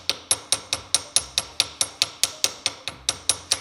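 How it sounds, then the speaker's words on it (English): A small hammer taps quickly to spread a jewelry rivet, making a steady run of about sixteen light, bright, close taps at an even rhythm with no talking. "Now I'm just spreading my rivet."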